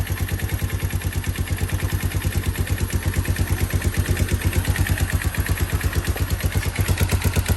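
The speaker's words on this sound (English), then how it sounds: "That's a pretty low idle." Yamaha DX motorcycle engine idling low, a steady rapid loud putter with even pulses close by, continuous throughout with no talking.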